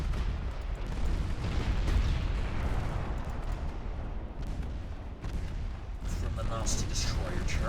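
Battleship main and secondary guns fire in the naval battle game Ultimate Admiral Dreadnoughts, producing a continuous heavy rumble of booms and blasts while a person talks over it.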